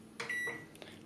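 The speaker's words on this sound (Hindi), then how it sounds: "अब माइक्रोवेव में रख लेते हैं।" A microwave oven beeps as a bowl of spice-coated peanuts goes in: two short electronic tones close together, a fainter third beep after, quiet and near in a still kitchen.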